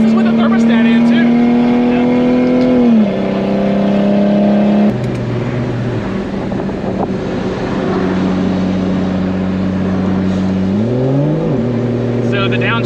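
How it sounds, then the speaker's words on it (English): A 2JZ engine in a BMW E30 with a DCT gearbox and 6466 turbo, running on 1 psi, holds a high steady rev with tonal pitch shifts rising and falling. The sound is loud and close and continues throughout. "RPMs high, try to get it warm."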